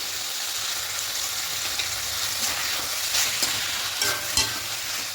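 Chicken mince with vegetables and peas sizzles steadily in a pan while being sautéed for pilau, with a close, continuous frying hiss and occasional stirring scrapes, no talking.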